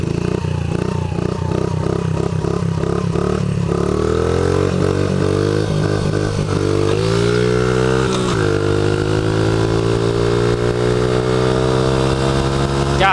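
A Honda CRF50 motorcycle engine runs steadily and close by, first with rhythmic pulsing revs, then climbing in pitch as it accelerates through the gears on a public road, loud and continuous throughout.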